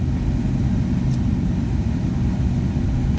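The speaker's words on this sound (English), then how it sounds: "Sorry, I'm kind of driving at the moment." A steady low rumble fills the cabin of a moving car, a constant engine and road drone with no clear changes or voices.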